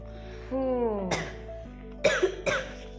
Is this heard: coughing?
yes